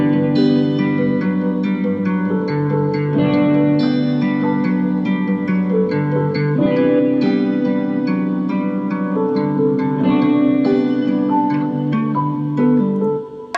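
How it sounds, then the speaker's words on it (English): Guitars and piano play a steady, layered melody together, with sustained notes and gentle reverb throughout and no speech. "So all together the melody sounds like this with the guitars and the piano."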